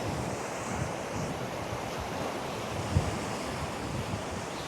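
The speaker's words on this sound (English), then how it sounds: "it seems to be blowing right in my base. So I think the wind's everywhere today" Strong wind gusting across a North East beach at Ryhope, mixed with steady surf washing ashore, a continuous broadband roar with mic buffeting and a brief thump partway through.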